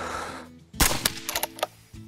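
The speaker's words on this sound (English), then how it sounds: "And that's going to be another shot connected" A single sharp rifle shot rings out in the hunting game American Marksman while hunting bighorn and mule deer, followed by a few quieter cracks and echoes fading over about a second.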